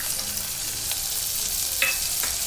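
Vegetables such as capsicum and peas for green fried rice sizzling in a pan, a constant hiss with a few faint scrapes and clinks of a spoon stirring, close and alone.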